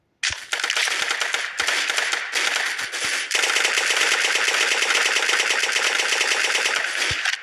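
Rapid automatic gunfire in the mobile shooter Special Forces Group 2, loud and close, with short bursts at the start and then a long sustained stream of rattling shots.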